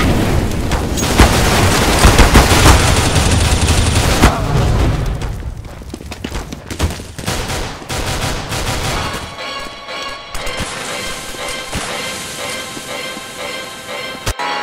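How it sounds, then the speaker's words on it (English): Video game combat with a grenade explosion and gunfire: a dense, loud barrage of shots and booms for the first few seconds, then scattered sharper reports and crackling over quieter background. "Grenade!"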